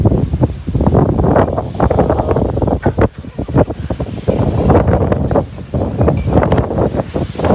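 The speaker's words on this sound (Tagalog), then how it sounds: "Sobrang hangin." Strong wind buffets the microphone in loud, continuous roaring gusts across a farm field in Prachinburi, Thailand, with no one speaking.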